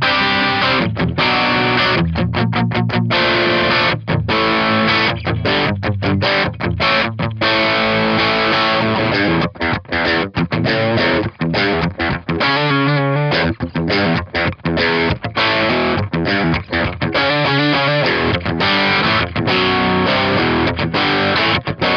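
Heavily distorted electric guitar through a Friedman JEL-100 capture and an Orange 2x12 cabinet impulse response with Celestion V30 and G12M speakers, mic'd with a Sennheiser E609, playing a loud, continuous chugging riff with palm-muted bursts.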